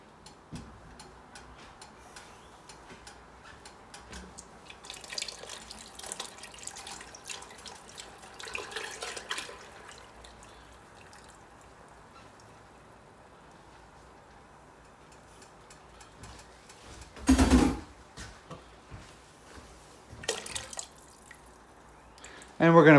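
Cream poured from a measuring cup into a pot for broccoli cheddar soup makes a faint trickling with soft ticks and drips, then one brief louder splash near the end, while someone talks nearby.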